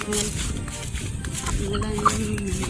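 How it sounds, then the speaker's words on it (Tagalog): Native chickens cluck softly and intermittently in an outdoor farmyard setting, with faint background noise and no clear talking. "Manok na native, oh."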